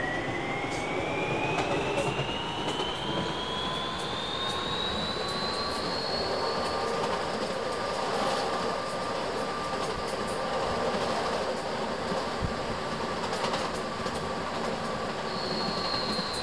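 A WMATA 1000 Series Rohr metro train on the Red Line, simulated in the Openbve game, runs steadily with a continuous rumbling roar, a rising electric motor whine and rail noise throughout, close and loud with no talk.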